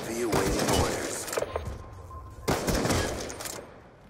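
Gunshots in Black Ops 2 from a sniper rifle, two loud close cracks with echoing tails amid a burst of gunfire, and game noise underneath.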